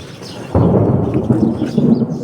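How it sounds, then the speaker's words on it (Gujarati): Deep thunder rolls in abruptly and rumbles loud and steady through a heavy rainstorm, with no voices over it. "इतना गाज बीज हो रहा है"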